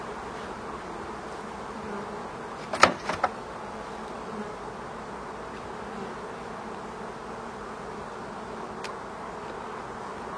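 Honeybees hum in a steady, soft, continuous buzz around the feeders of a beehive, with a couple of brief sharp knocks from hive equipment partway through and no talking.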